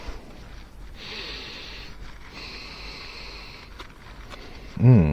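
Close, breathy sniffing of Rap Snacks crisps: soft drawn-in nasal inhales over faint background noise, ending in a louder burst near the end.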